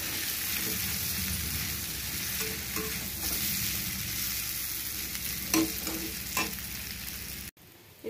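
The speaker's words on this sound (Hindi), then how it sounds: "अब इसको हम भून ले रहे हैं" Ground chana dal mixture frying in oil, a dense continuous sizzle up close with intermittent spoon stirring and scraping, ending abruptly; no speech.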